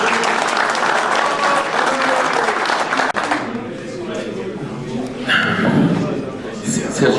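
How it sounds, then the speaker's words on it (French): An audience at a hare hound pack competition award ceremony in Bas-en-Basset gives loud, sustained applause that fades after about three seconds, then scattered clapping and talk continue. "on les applaudisse très fort pour l'ensemble du travail qu'ils ont fait avec leurs équipes."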